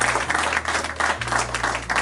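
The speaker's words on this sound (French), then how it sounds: "Et là, bien sûr, on peut applaudir parce que c'est presque la fin." Audience at a film festival press conference claps in a short, fairly close burst, a steady patter of hands at moderate loudness with a low background hum.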